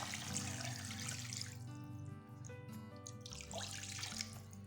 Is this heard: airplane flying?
no